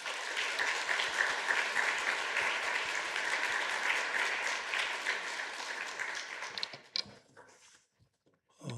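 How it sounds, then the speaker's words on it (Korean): Congregation at a Sunday church service applauds to welcome a university president, a steady sustained round of clapping that tapers off and stops near the end, followed by a brief quiet. "우리 총장님 박수로 한번 맞이하겠습니다"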